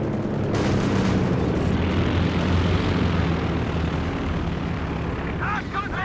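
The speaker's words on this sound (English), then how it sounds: "being far off the actual corridor of the P-47 strike" A P-47 fighter strike roars overhead in a World War II strategy game, a loud continuous engine drone that fills the whole stretch with no break.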